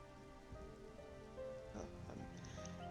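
Soft, steady rainfall in a role-play video game patters quietly on surfaces, with faint tones and brief background sounds and no talk.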